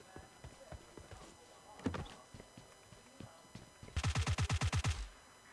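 A rapid burst of about ten automatic gunshots from the battle-royale video game PUBG on the Erangel map, loud and evenly spaced, following quieter scattered in-game sounds and a few softer shots earlier.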